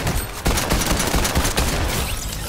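Rapid gunfire from a non-player character's weapon in Fortnite, a dense, loud burst of overlapping shots that runs continuously without pause.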